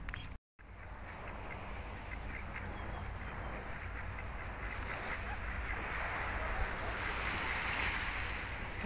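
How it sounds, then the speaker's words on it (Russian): Sea waves on a shore with bathers about, a continuous broad rushing surge that swells slightly louder toward the end, heard fairly faint at a distance after a brief gap of silence. "Послушайте море."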